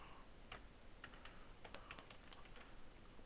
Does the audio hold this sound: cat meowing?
no